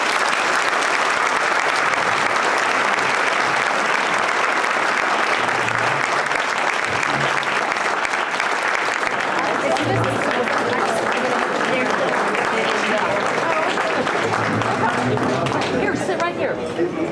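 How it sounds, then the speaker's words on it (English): Sustained audience applause at a candidate forum at Schreiner University, steady and fairly loud throughout, thinning slightly toward the end with some crowd chatter mixed in. "Let's give them a round of applause."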